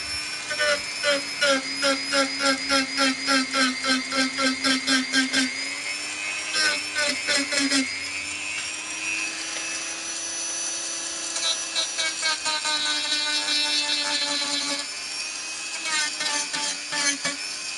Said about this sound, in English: I need to grind a bit more out of there